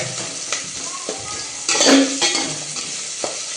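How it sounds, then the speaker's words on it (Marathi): Chili and onion fry in a pan while it is stirred, giving a steady close sizzle with scraping stirs and a louder burst of spitting partway through. No one speaks. "त्यानंतर मिरची टाकला आणि कांदा टाकला आणि असं पैन हलवायचं बघा"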